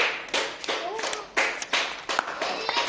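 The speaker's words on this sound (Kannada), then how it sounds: "ಮನೋಜ್ ಚಪ್ಪಾಳೆ ಹೊಡೀರಿ ಎಲ್ಲಾರು" Schoolchildren in a classroom clap for a classmate, a burst of loose, uneven handclaps in several quick clusters, close and fairly loud.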